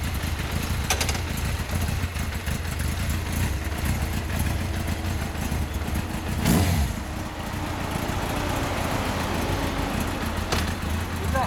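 A Yamaha XJR1300 motorcycle with a Yoshimura Cyclone exhaust runs close by, a loud, steady engine note with a deep idle rumble and a brief swell of revving partway through.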